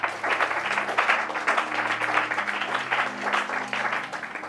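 A church congregation applauds together in a steady, dense wash of clapping that carries on throughout, with a low sustained musical tone underneath.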